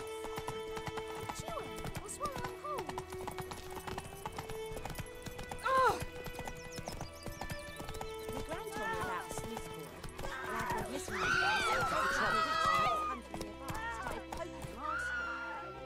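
A horse gallops with rapid rhythmic hoofbeats and lets out a loud neigh in The Witcher 3: Wild Hunt, with game music and character voices speaking over the hooves.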